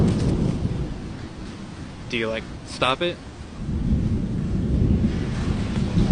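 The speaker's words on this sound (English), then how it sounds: "Big storm." Rumbling thunder from a big storm near a tornado rolls low and continuous under gusty wind noise on the microphone, while people speak briefly in the middle.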